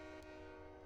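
A Union Pacific SD40-2 locomotive, number 3300, sounds its air horn on Sherman Hill in a train simulator game: a sustained, steady multi-tone horn blast over low engine rumble, with no speech.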